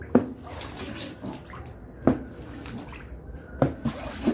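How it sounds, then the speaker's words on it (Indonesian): A rubber squeegee pushes shallow floodwater across a house floor, making repeated sloshing, splashing strokes at irregular intervals over a soft watery background. "Saya sudah bisa pakai ini karet-karet pendorong biar saya tarik airnya keluar."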